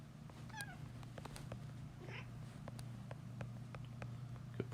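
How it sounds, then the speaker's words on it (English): A pet cat meows a couple of times right next to an iPad, faint and brief against a quiet room with a low steady hum and scattered small clicks. "Could probably hear my cat right next to the iPad"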